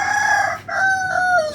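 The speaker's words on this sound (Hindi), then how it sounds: "यहाँ पे असील मुर्गे भी हैं भाई" An Aseel rooster crows loudly and close by, a long strained call with a short break partway through, with no voices over it.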